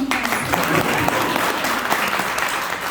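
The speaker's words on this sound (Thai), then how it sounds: "ปรบมือให้" Audience applause at a Thai experience-sharing talk, a dense, steady wash of many hands clapping at once, sustained at an even loudness for the whole stretch.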